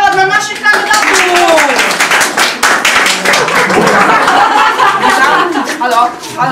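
Studio audience clapping for the candidates on a Polish TV current-affairs show, a dense steady burst of applause mixed with chuckles and overlapping voices, loud and continuous for several seconds.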